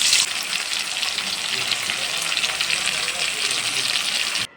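Bitter gourd frying in hot oil, a loud, dense, steady close sizzle that runs unbroken until it cuts off abruptly at the end.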